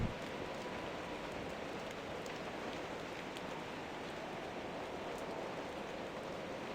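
Steady rain pours at night in Kirkwall in The Bard's Tale, a continuous soft hiss of drops on surfaces, even and unbroken.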